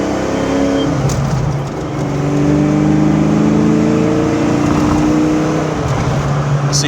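A 1988 Ford Mustang GT engine revving and pulling, a loud, close V8 rumble rising through a couple of runs with a brief dip between them.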